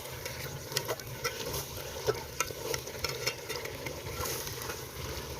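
Semolina for makhandi halwa roasts in a pan, with a steady soft sizzle under repeated scraping stirs of a spoon against the pan, close and moderately loud, with no voices.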